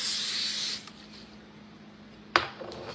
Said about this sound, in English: I'm just gonna hit it with some spray.